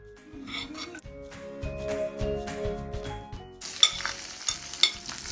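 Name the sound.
sliced garlic, ginger and chilies frying in hot oil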